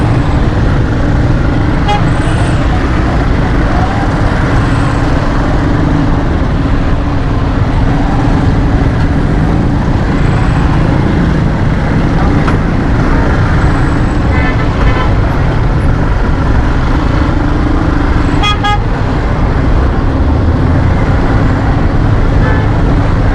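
A jammed road in Karachi, with a loud, constant rumble of engines and traffic close by and scattered short car and rickshaw horn toots sounding through it.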